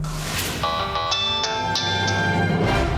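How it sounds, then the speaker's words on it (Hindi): Phone ringtone for an incoming call in a crime drama, a loud repeating electronic melody of bright tones that plays alone for about three seconds. "मुझे अचानक से रश्मि का फ़ोन आया।"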